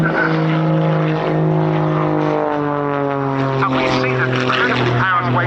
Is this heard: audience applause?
no